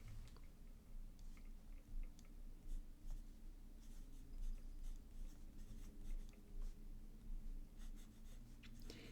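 A fountain pen fitted with a juicy left oblique nib writing on paper, faint close scratchy strokes in irregular bursts against quiet background, no one speaking.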